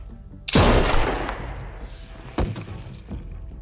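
A gunshot cracks in The Walking Dead: A New Frontier video game, a single loud, close blast with a long decaying tail, followed by a second sharper report about two seconds later and a faint thump near the end.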